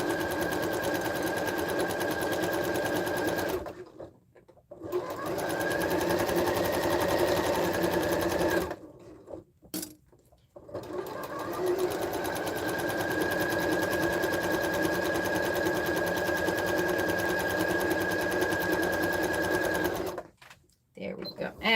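A sewing machine pieces quilt blocks in long steady whirring runs, stopping a few times between seams, close and clear with a hum, while a person talks over it.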